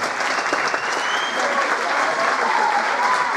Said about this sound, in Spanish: Fuerte el aplauso para la orquesta Flor Argentina.